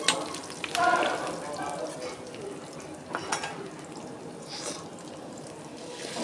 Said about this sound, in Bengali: ভালোভাবে পেঁয়াজ ভেজে নেব।